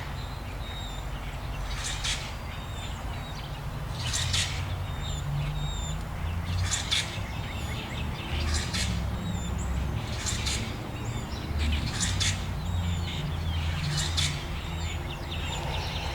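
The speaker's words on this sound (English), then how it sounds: "These birds having this discussion." Several birds call and squawk in a garden in repeated bright bursts, spaced every couple of seconds, over a steady low background hum, fairly close and loud.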